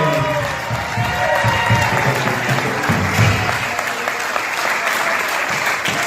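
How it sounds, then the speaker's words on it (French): A church congregation claps together during a French-English sermon, loud steady applause filling the room with some cheering and voices mixed in. "Clap for the Lord."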